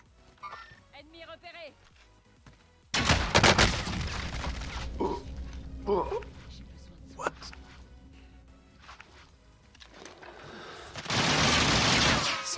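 Warzone gunfire, a sudden loud burst of rapid shots followed by scattered sharper cracks and a renewed dense volley near the end, with brief talk early and mid-way.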